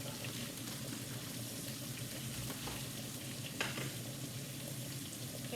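Salisbury steaks frying in a pan, a steady close sizzle running throughout with a faint clink near the middle and no talking.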